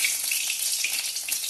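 Refined white oil heats in a wok with a steady, soft sizzle and a faint crackle, close by, with no voices.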